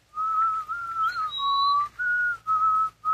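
A person whistles a clear, sustained tune in imitation of a bird's mating call, close and loud, with a few held notes broken by short breaths and a brief upward slide.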